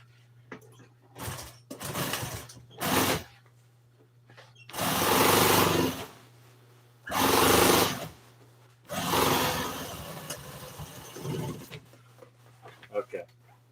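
An industrial sewing machine stitches a cover for an old Toyota seat in short, loud bursts of rapid whirring, each lasting a second or two, separated by pauses over a steady low hum, with a person talking in between.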